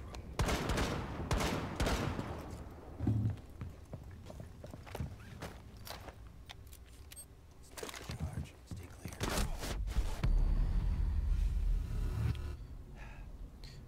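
Shotgun blasts in Rainbow Six Siege on the Kanal map, several sharp booming shots spaced irregularly amid footsteps and in-game noise, with a voice talking over parts of it.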